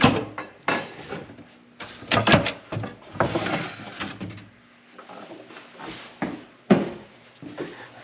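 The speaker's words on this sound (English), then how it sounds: "Then we pull the drawer right back out." A cabinet drawer running on Blum slides is pulled back out, giving a series of wooden knocks, slides and clatters of varying loudness close by in a workshop, with no one speaking.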